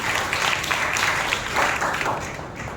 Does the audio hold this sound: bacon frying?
no